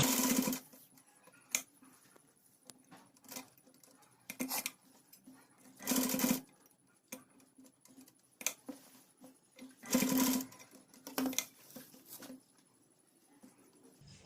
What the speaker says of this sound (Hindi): प्रेशर दाब को नीचे करते हुए हम यहाँ पे स्टिच लगा लेंगे